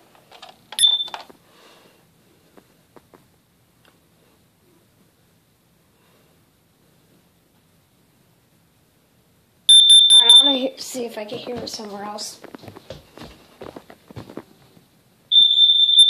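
A shrill carbon monoxide alarm beeps loudly in short bursts during an alarm test, with a person talking between them; the piercing tone returns near the end.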